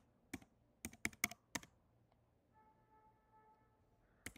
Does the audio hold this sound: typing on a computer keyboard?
yes